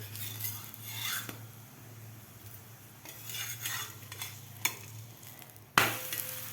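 A raw mango thalipeeth flatbread roasts on a pan under a faint, steady sizzle and low hum. Scattered scraping and clinks of a spatula are heard as it is flipped, ending in a sharper metallic knock, with no speech.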